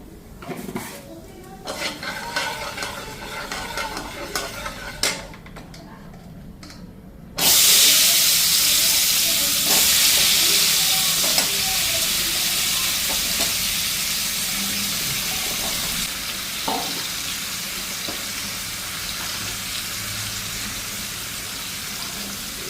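Turmeric dropped into hot oil, setting off a sudden loud, steady sizzle partway through that continues and slowly fades, with clinks of a spoon and pan beforehand.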